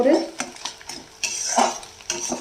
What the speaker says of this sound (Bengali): দিয়ে এবার এটাকে ভুজিয়ে করে নিতে হবে।